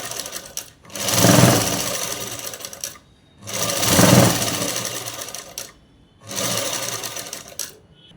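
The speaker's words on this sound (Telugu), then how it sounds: "ఇలా కుట్టు వేసేసుకోవాలి." A sewing machine stitches a ready-made jacket in three sustained runs of close, loud whirring, separated by short pauses, with no voices.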